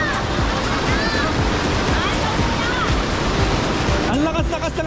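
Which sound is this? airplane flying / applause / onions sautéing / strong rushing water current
strong rushing water current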